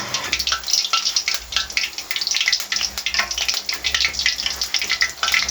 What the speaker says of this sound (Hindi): अब हम इसको फ्राई करना शुरू करते हैं।